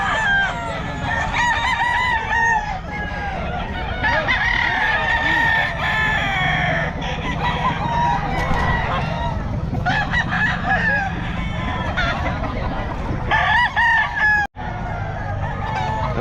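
Several roosters crow repeatedly at a busy poultry market in Bocaue, overlapping loud calls with clucking fowl, while vendors talk in the background.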